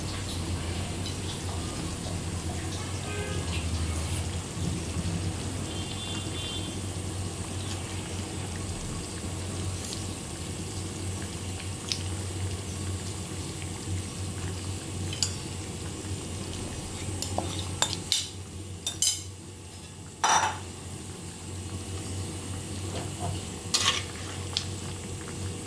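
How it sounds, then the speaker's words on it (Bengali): A bottle gourd curry with rohu fish simmers at a boil in a pot, giving a steady, fairly quiet bubbling hiss throughout, with a few scattered clinks of utensils toward the end. "লাউয়ের তরকারি ফুটছে বা বলক এসেছে।"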